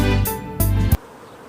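Honey bees buzz loudly close by at a horizontal Langstroth hive holding a newly swarmed colony, a droning hum broken by a few rustling bursts before it cuts off into near silence.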